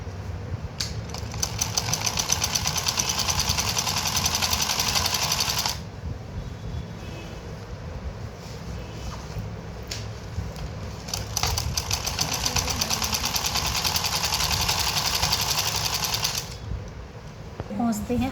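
Sewing machine stitching a seam along a marked line on a samosa-cut pajama, a steady close mechanical whir with rapid ticking that keeps running and surges in two louder stretches, while a voice speaks over it.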